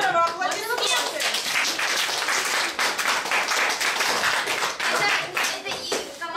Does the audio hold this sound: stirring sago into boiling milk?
no